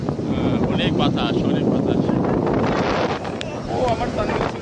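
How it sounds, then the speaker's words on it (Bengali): Strong wind at Costa da Caparica beach in Portugal, a continuous loud roar buffeting the microphone with the sea faintly beneath and occasional voices nearby. "অনেক বাতাস"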